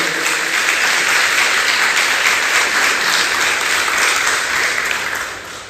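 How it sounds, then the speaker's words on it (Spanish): Church congregation claps vigorously and continuously, a loud, even wash of many hands filling the room with no pauses from start to finish. "Dale un aplauso a Él."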